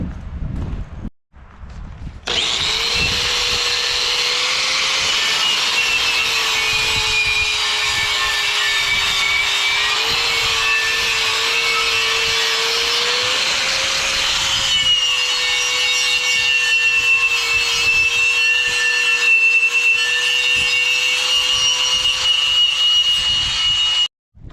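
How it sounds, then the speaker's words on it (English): A wire wheel on a grinder cleans metal on a tractor, a loud, continuous whirring scrape with a steady motor hum that holds for over twenty seconds, pitch shifting slightly as pressure changes. "I got a little too close with the grinder, or the wire wheel"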